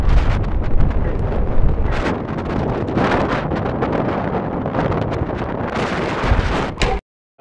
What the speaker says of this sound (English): It's blowing like 30, 40 knots outside, and it's really cold.